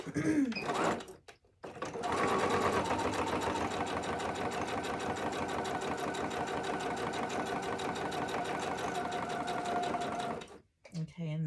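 A sewing machine runs in a steady continuous stitching burst for about eight seconds as it sews a Moondance notepad, starting and stopping with brief pauses; a voice talks briefly near the start.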